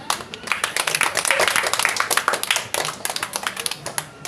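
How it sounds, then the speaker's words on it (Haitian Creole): A children's show audience applauds in a burst of clapping that holds steady for several seconds, then thins into scattered individual claps near the end. "Oh, pour ça on applaudit."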